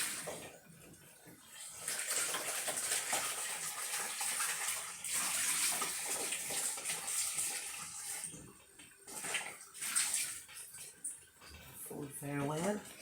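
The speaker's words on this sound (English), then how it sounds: "So I'm going to wash my food." Tap water runs and splashes while ox liver is washed for a Jamaican dish, a fluctuating wash of water with brief pauses, heard under a voice talking.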